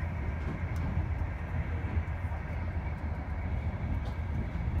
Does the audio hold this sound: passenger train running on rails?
yes